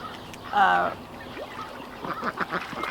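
A single loud, close quack comes from a small backyard flock of ducks, followed by softer scattered bird sounds and faint background noise.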